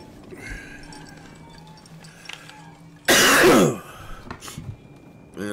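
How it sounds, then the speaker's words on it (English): A single loud burst of coughing stands out against quiet background noise, lasting about half a second, followed by a softer, shorter cough. "excuse me if I'm coughing a lot through the show"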